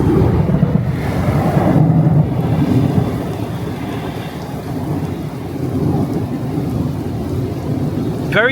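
Steady wash of heavy rain and gusting wind buffeting the microphone during a thunderstorm in Brooklyn, New York, with low rumbling beneath, continuous and loud throughout.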